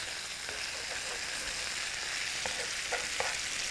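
Garlic fries in a pan for chicken osso buco while it is stirred around. A soft, steady sizzle is broken by a few light scraping stirs, fairly quiet, with no voices.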